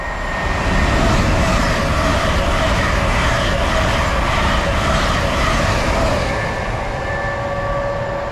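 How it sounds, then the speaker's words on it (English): An Azuma intercity train on the East Coast Main Line heading from London King's Cross to Edinburgh passes close by, producing a loud, steady rush of rolling wheels and wind with a faint high whine sustained throughout. "And passing as well is an Azuma."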